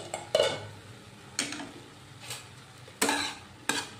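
A spoon scrapes through carrot halwa with reduced milk in a pan, making several separated stirring strokes. Each stroke ends in a clinking scrape against the metal, heard close and without speech.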